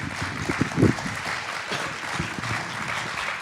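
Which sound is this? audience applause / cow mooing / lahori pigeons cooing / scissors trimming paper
audience applause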